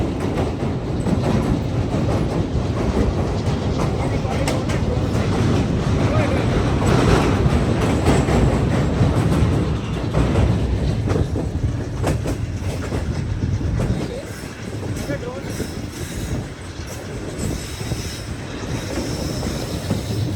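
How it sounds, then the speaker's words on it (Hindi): Coal train passing at night near Kotri on the line into Hyderabad, a steady loud rumble with clattering wheels and faint squeals across twenty seconds, easing slightly near the end, with occasional voices. "कोल ट्रेन गुजरती हुई नज़र आ रही है मुझे।"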